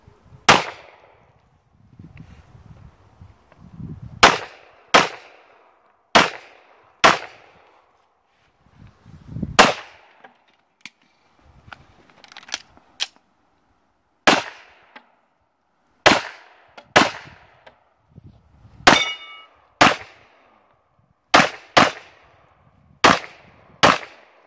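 Pistol shots at an IDPA practical shooting match, a string of sharp, loud cracks fired in irregular bursts of two or three, each with a short echo, spaced across the stage with brief quieter gaps between.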